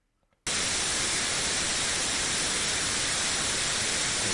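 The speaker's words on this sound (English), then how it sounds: "additive white Gaussian noise, AWGN. It's white noise." Additive white Gaussian noise starts abruptly after a brief quiet moment and then holds as a loud, steady, broadband hiss with no variation in level.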